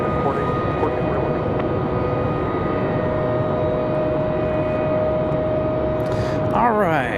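American Airlines airliner departing Raleigh-Durham airport on a windy day, heard outdoors: a sustained, fairly loud jet roar with a steady whine, and a short burst of radio chatter near the end.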